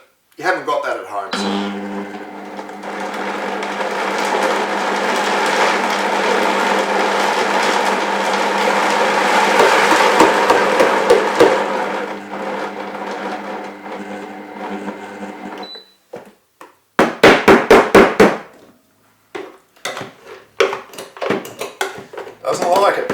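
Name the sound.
blender grinding peanuts into peanut butter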